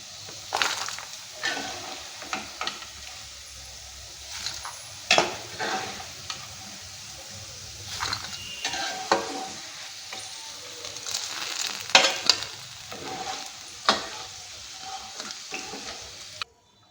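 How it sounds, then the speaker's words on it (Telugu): Ivy gourd pieces frying in a pan while being stirred, soft sizzling broken by repeated scraping and clattering strokes of a spatula at irregular intervals, fairly quiet and close. "చూశారు కదండి ఈ రకంగా వేగిపోయినాయి దొండకాయ ముక్కలు"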